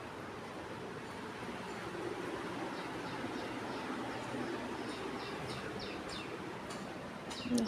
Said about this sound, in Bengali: আর এখানে পাখির ডাক।